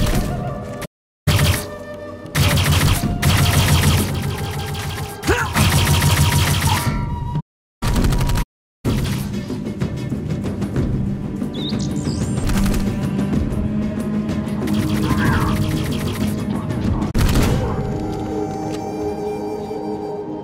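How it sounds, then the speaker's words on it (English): Gunfire in the Xbox One game Dark Void, dense bursts of shots and impacts with brief dropouts, then a busier mix of thuds and action noise, loud throughout. "Gunfire!"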